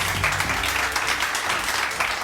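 A studio audience on a Pakistani morning TV show claps together in a short burst of dense, even applause, loud and close from start to finish.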